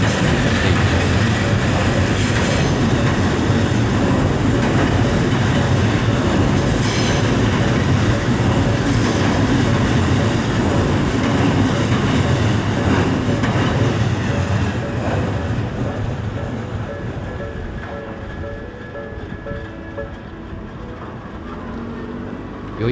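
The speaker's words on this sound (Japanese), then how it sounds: "駅から箱根湯本駅のロマンスカーに通過していきます。" An Odakyu Romancecar train bound for Hakone-Yumoto passes a Japanese level crossing: a loud, steady roar and rumble of the cars going by close, easing off toward the end as the train moves away.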